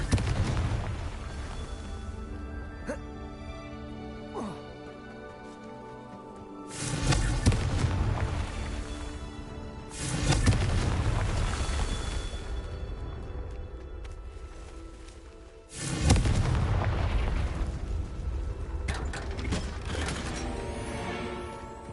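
Confringo blasting-curse explosions in the game Hogwarts Legacy, three heavy booming blasts several seconds apart, each followed by a long rumbling decay over a steady background of game ambience and music.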